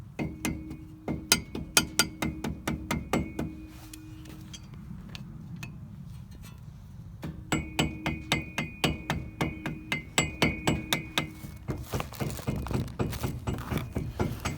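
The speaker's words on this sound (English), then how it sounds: "I like your hammer." Sharp metallic hammer taps in a quick, regular rhythm, pausing briefly midway before resuming with steady repeated strikes close by.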